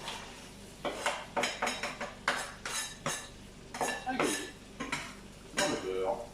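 Kitchen pan work as garlic goes into butter for a veal and quinoa dish: a run of clinking, scraping utensil strikes against the pan, irregular and close, with a faint sizzle underneath.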